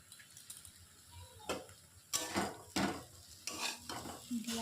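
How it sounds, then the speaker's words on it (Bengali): Egg curry masala being stir-fried in a pan with tomato ketchup added, a low sizzle broken by several loud, scraping spatula strokes at an irregular pace, close up and without talk. "দিয়ে আর একটু ভালো করে কষাবো।"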